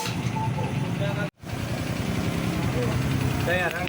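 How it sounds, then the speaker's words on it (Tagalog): A Honda XRM 125 FI motorcycle engine, just serviced after sensor error codes, idles close by in a steady, continuous rumble that drops out for a brief instant before resuming. "maganda na yung minor ng kanyang motor"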